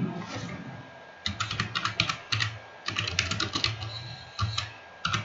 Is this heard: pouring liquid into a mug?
no